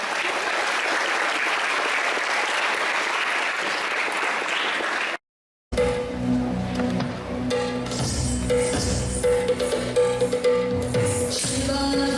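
An audience at a school Kannada Rajyotsava celebration claps loudly and steadily for about five seconds before a brief silence, after which music with percussion takes over.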